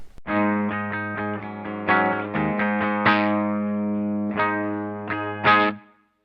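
Electric guitar riff through stacked overdrive pedals into an Orange Terror amp, thick heavy distortion, sustained chords and sharp picked accents ringing out before cutting off.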